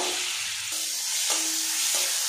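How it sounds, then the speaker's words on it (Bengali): Washed, drained mung dal hits hot cooking oil and sizzles loudly and continuously, the hiss shifting in steps as it is stirred. "ডালটা আমি ভেজে নেব।"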